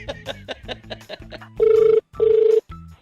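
A telephone rings in short repeated bursts, loud and close, after a few moments of other sounds, with no talking over the rings.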